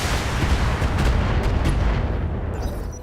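Missile racks firing in the mech combat game Battletech, a dense roaring barrage of booms and blasts that stays loud and continuous before tapering off near the end. No one speaks.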